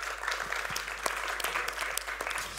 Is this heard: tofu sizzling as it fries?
no